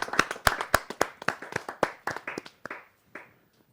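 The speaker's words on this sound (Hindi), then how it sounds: "जरा जोरदार तालियों के साथ हम उनका अभिनंदन करते हैं।" An audience at a Hindi poetry gathering claps to welcome a guest, a burst of sharp, close hand claps that thins out and fades within a few seconds, with no talking over it.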